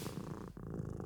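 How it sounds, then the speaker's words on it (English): A cat purrs up close in a quiet motel room, a soft continuous rumbling purr with a brief dip partway through. "All right, precious kitty."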